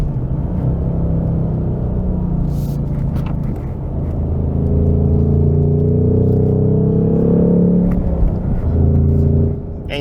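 A Ford Mustang Mach 1 with a Coyote V8 rumbles deeply, then revs and swells louder as it accelerates, heard from inside the car with a little talk.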